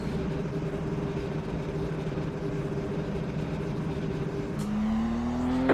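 Simulated DW12 IndyCar engine in an iRacing race at Chicagoland, a steady loud high-pitched drone holding throughout, with the pitch jumping at a gear change near the end.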